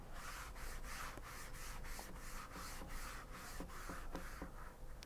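A sponge rubs across watercolor paper to lay down a wash in a cloud painting, giving a soft steady scrubbing with rhythmic strokes about every half second, quiet and close with no talk.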